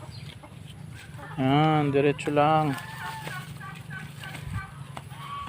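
Hungry chickens waiting to be fed let out two loud, drawn-out harmonic squawks close by, followed by softer scattered clucks, while a person speaks briefly nearby.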